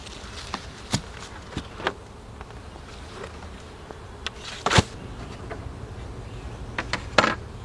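Honeybees buzz around an open hive of a queenless colony, a steady low hum broken by several brief, louder passes of single bees flying close by.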